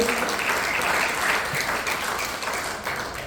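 Steady applause from an audience honoring Parents of the Year award winners in Hawaii, dense and sustained at an even level for the whole stretch with no pauses.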